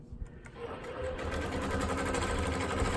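A longarm quilting machine stitches steadily during ruler work for continuous diagonal crosshatching, a close, even mechanical whir that runs unbroken throughout.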